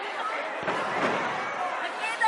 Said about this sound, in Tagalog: Nagpa-fireworks, guys.